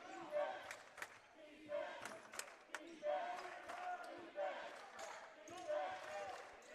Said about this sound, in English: Saints crowd getting fired up.